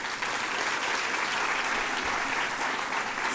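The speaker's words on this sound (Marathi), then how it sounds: "पहिला जो युवक आला त्यासाठी जोरदार टाळ्या" Steady, dense applause from a convention audience for the first youth speaker, filling the hall at an even level throughout with no pauses.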